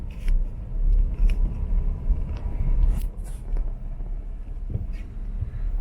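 Heavy ten-wheeler quarry trucks and other traffic pass on a village road in the Philippines, heard as a steady low rumble of engines and tyres with a few brief louder swells.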